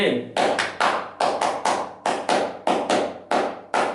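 A group performs the rhythmic HW scout clapping chant, sharp claps falling in tight patterned bursts with brief gaps, loud and close, repeating steadily over several seconds.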